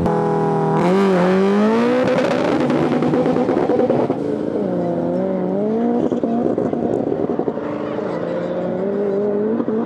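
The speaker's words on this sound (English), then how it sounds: "This is a real race car against this." A race car drifting at a drag and drift event, its engine revving hard and holding a loud, wavering note near the listener, with tire squeal and voices mixed in.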